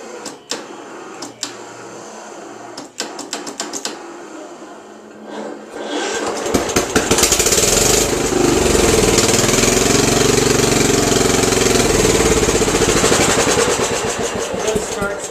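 An Ariens riding mower with starting problems cranks over on its starter after some clicking and tapping, then catches and settles into a loud, steady idle close by.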